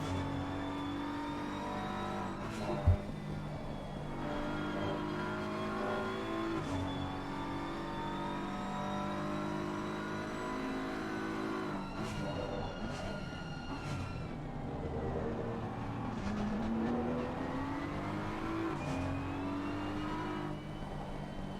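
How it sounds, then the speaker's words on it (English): BMW M4 race car engine in a racing video game during a sprint championship race, revving and shifting continuously with rising and falling pitch and a brief sharp knock, steady and fairly quiet with no talking over it. "Does sound lovely, the BMW M4."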